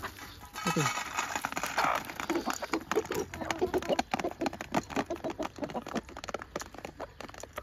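Free-range chickens peck and cluck softly while eating soaked grain, with a busy patter of pecking taps and scattered low clucks running steadily throughout.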